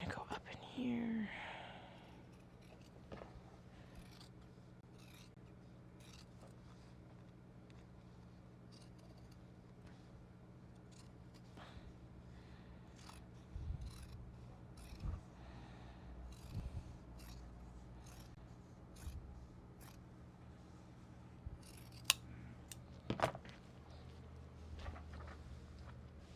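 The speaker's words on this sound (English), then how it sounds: "we're going to rotary cut down here for a nice straight line, and then trim them out like that" Obi fabric seams are cut with a rotary cutter and then trimmed, producing faint, scattered scissor snips and soft rasping cuts under quiet, low talking.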